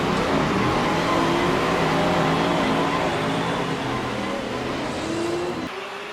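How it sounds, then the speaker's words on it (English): Racing car engines roar together at the start of the 1956 Monaco Grand Prix, forming a loud, dense, continuous drone with rising and shifting engine tones that eases slightly near the end. "Que les moteurs rugissent"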